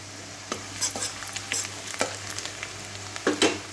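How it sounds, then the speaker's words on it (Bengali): Onions frying in oil with turmeric powder added for a pabda fish curry, irregular clinks and scrapes of a spoon against the pan over a low sizzle, close and clear, with nobody speaking. "তেলের মধ্যে আমি হলুদ গুঁড়ো দিয়ে দিচ্ছি"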